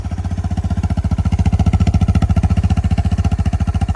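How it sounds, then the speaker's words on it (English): A Suzuki DR650 motorcycle fitted with a GSXR muffler and Procycle mid pipe idles high on choke, giving a loud, close, fast and even exhaust pulse that holds steady throughout with no talk. "Well, it's gonna be idle and high because I got the choke on for a second."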